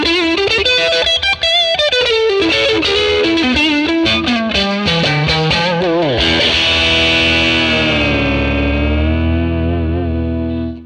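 Stratocaster electric guitar played through a ToneX model of a 1957 Tweed Bassman amp with added reverb: a busy run of loud picked notes, then a sustained chord that rings out and slowly decays in the reverb, with no talking.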